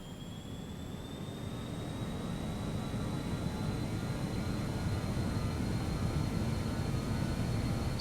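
BAe 146 airliner engines spooling up on a takeoff roll in a flight simulator, a steady rising jet roar with a thin whine climbing gradually in pitch, constant and moderately loud.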